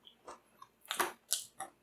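Someone bites into an air-fried Korean fire-style ramen chip, giving several sharp, close crunches spaced irregularly across a quiet background, louder toward the middle.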